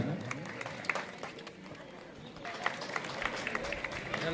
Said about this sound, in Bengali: আপনার একটু করতালি দিয়ে অভ্যর্থনা জানান